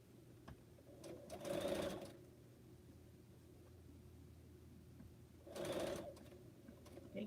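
A sewing machine stitching pineapple quilt blocks runs in two short, loud whirring bursts separated by a quiet pause with faint background noise.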